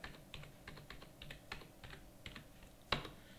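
Quick, light keystrokes on a computer keyboard during accounting data entry, faint and close, tapping in an irregular rhythm with one sharper key press near the end.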